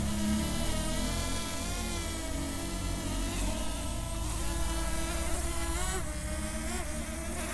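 A small camera drone buzzes continuously with a steady, insect-like whine that holds throughout, fairly close and even in level, with no talking.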